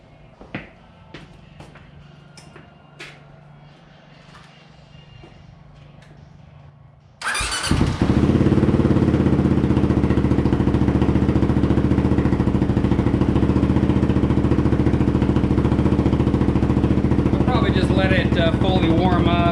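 A Kawasaki KLR motorcycle on regular gasoline is started after a few quiet seconds of handling noise, catching abruptly and settling into a loud, steady single-cylinder idle that continues close by.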